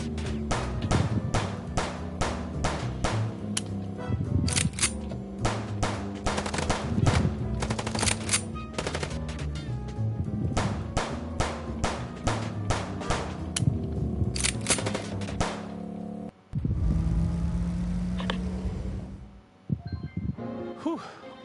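Sharp gunshots ring out in the game Chicken Police, a long uneven run of single cracks and quick bursts with a short break near the end, loud and close.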